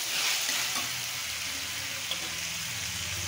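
Peanuts and vegetables sizzle and fry in a pan with oil for a potato and pea rice dish, a steady close crackle with a brief stir or clink partway through.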